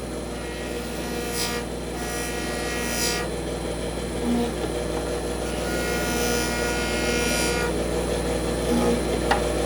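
The inside of a ring shank is polished on a rotary machine, giving a steady nearby motor whine with repeated rising and falling buffing swells as the piece is worked against the wheel.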